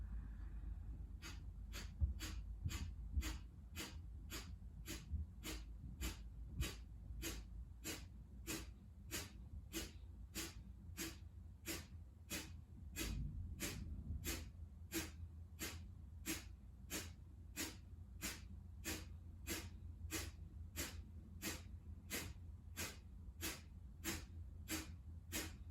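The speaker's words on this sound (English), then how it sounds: "short, sharp exhales." Rapid, evenly spaced sharp breath exhales during a yoga breathing exercise, forced pumps repeating steadily for nearly half a minute, close and clear with a low background rumble.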